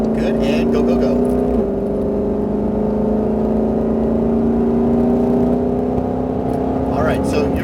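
A Ford Mustang Shelby GT500 accelerates hard on a race track, its engine drone loud and steady while rising in pitch, with a shift partway through and a driving instructor's voice over the top.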